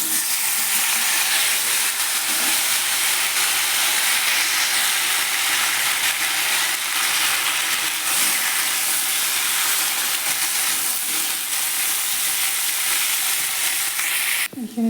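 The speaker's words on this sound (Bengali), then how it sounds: "এরপর আমি সব সবজিগুলো একসাথে ভেজে নেব।" Mixed vegetables frying in mustard oil in a kadai, giving a loud, dense, continuous sizzling hiss that barely changes for the whole stretch, with a brief clatter at the end.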